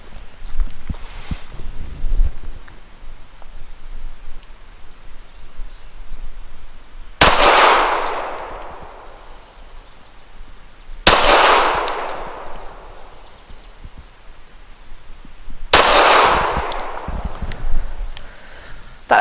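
Three loud, close pistol shots from a Citadel Warbird 1911 firing Talamo 230 grain steel-cased ammunition at an outdoor range, spaced several seconds apart, each a sharp crack with a ringing decay, over faint background noise.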